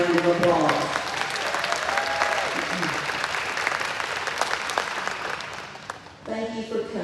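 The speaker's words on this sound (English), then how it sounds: "Let's give them another big round of applause." Sustained applause from an audience fills a pre-kindergarten ceremony, a dense steady wash of clapping that fades briefly near the end as a voice begins speaking.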